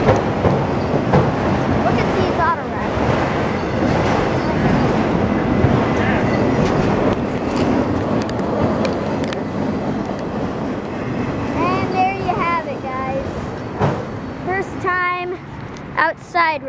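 Norfolk Southern autorack freight train rolling past a crossing on Cooke Road in Columbus, Ohio, a loud steady rumble with wheel clatter and squeal, with a few voices talking over it.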